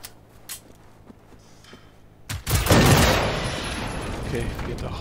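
Gunfire from the video game Generation Zero bursts in after a couple of quiet seconds with faint clicks: a loud, sustained volley of shots that fills the rest of the moment and slowly tails off.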